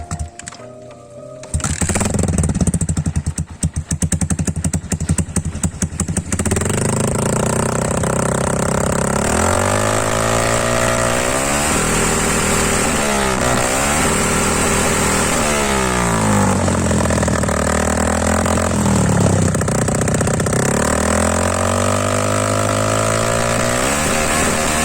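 A Yamaha Sniper MX 135 motorcycle idles through a Charama tube-type exhaust pipe with no silencer, a loud, raw, steady mid-pitched drone with a wavering pulse that dips and swells slightly throughout.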